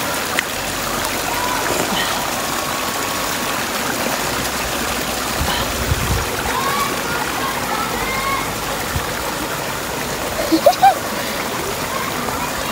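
A small jungle stream flowing in a steady, close rushing wash, with occasional splashes and people talking over it.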